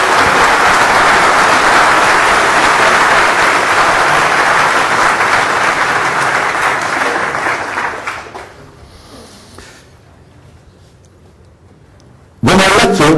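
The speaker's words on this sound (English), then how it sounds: "a short applause for him, please" An audience applauds a lecturer before a physics lecture on rainbows, a dense, steady wash of clapping that fades out after about eight seconds, leaving quiet room tone before a sudden loud burst at the end.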